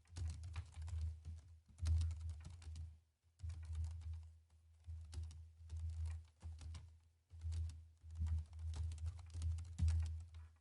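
Soft-touch keys on a JLab Epic keyboard being typed on close to the microphone, in steady bursts of muted tapping broken by short pauses, with duller spacebar thumps standing out. No talking.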